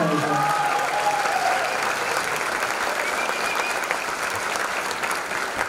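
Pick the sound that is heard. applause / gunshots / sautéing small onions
applause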